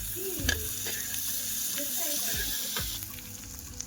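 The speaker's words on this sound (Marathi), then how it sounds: "तूप घालणार आहे छान मेल्ट होते" Ghee melting and sizzling in a pan, a steady close fry hiss with a few soft stirring scrapes and clinks, no talk.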